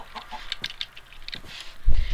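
Chickens in Minecraft give short, scattered clucks, small and fairly faint, and a dull low thump comes near the end.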